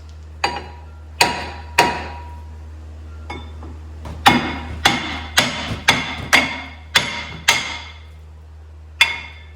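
Sharp metal hammer blows strike a rusty, seized brake rotor to knock it loose, about a dozen close, ringing impacts arriving in irregular bursts over a steady low hum.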